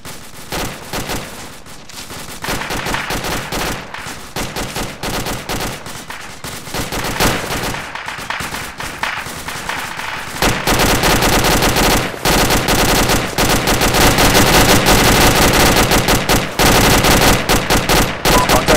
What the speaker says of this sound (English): There's been reports of MMG fire coming from the castle to our south.